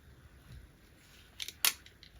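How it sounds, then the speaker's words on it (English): Two quick hissing spritzes from a spray bottle misting water onto embossed paper journal cards, the second louder and sharper, in an otherwise quiet room. "And then I'll just spray a little water."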